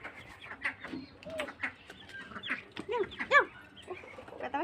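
A flock of chickens feeding together alongside ducks, irregular close clucks and squawks with a quick cluster of calls near the end and faint voices in the background.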